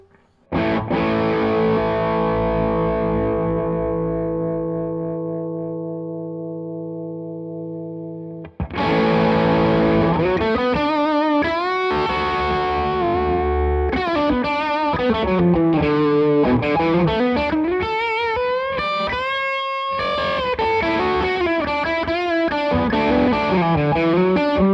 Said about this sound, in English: Let's try the dynamic distortion.